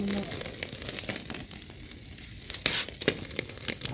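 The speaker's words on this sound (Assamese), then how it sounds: "এতিয়া জুইত আমি সেকিম ব্ৰইলাৰ মুৰ্গীৰ কলিজা আৰু" Broiler chicken liver roasts over an open fire, giving a steady crackling sizzle with sharp pops. The burning and spitting stay close and fairly loud throughout, with no talking.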